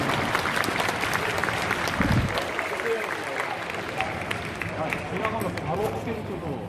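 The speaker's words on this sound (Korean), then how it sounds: "멋진 공연을 선보인 기본군 훈련단 동아리 팀에게 큰 경의의 박수 부탁드립니다" Audience applause fills a hall at an Air Force basic training graduation after a club performance, a continuous dense wash of clapping under murmuring voices and talk.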